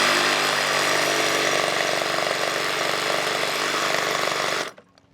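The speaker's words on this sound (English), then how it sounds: "I got my reciprocating saw. It should do the job here." A reciprocating saw cuts through a wooden deck stair stringer with a loud, steady buzzing rasp that runs without a break for about four and a half seconds, then cuts off abruptly, leaving near silence.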